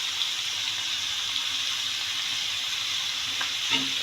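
Carrots with added salt fry in a pan of mustard-seed tempering, sizzling steadily and close by, and near the end there are a couple of quick scrapes as they are stirred.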